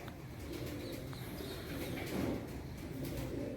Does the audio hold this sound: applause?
no